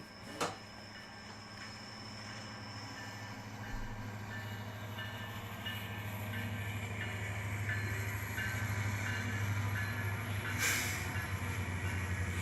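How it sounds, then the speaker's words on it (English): A westbound freight train hauled by locomotives IC 1032 and 1024 rolls past near Owen, Wisconsin, a steady rail rumble that slowly builds, with a faint early click and a brief high squeal. "here we have another train heading to the west with the IC 1032 in tow."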